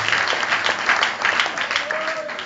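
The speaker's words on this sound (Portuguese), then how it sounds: "Bata palmas para Jesus." A church congregation claps steadily and continuously, many hands together, with a few voices mixed in beneath the applause.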